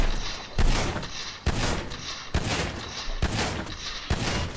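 Bullpup shotgun blasts hitting a tank in GTA V, about five heavy booming shots at a steady, spaced rhythm, loud and close, each ringing out over a continuous rumbling background.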